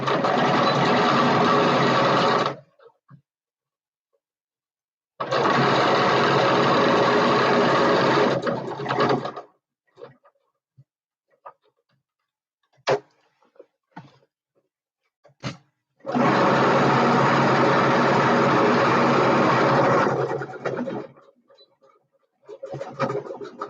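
A sewing machine top stitching fabric in three loud, steady running bursts of a few seconds each, close by, with pauses of soft clicks and handling between them.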